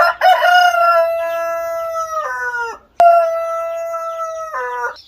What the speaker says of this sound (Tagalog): Daming mga manok na kuya.